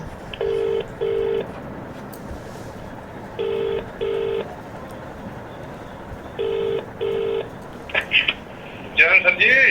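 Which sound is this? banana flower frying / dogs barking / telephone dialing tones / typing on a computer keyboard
telephone dialing tones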